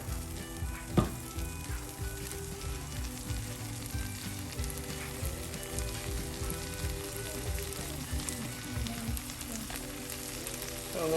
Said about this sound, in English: We're gonna let that sweat down, turn that fire up just a little bit.